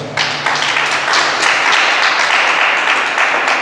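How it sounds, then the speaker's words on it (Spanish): A congregation clapping loudly and steadily together, a dense continuous patter of many hands filling the space. "Dale fuerte palmas al Señor, hermano."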